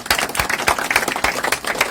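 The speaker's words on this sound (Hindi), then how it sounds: "एक बार जोरदार तालियां इसके लिए" Audience clapping at a youth group event, a dense, steady patter of many hands close by that fills the whole moment, with no one speaking over it.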